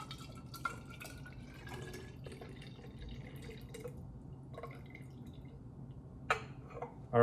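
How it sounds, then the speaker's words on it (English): Egg white and citrus foam mix being poured into an ISI whipper canister, heard as a run of small drips and trickles with a few sharper clinks near the end. "And then we will pour that into our ISI whipper canister."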